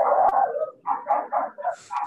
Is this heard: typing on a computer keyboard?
no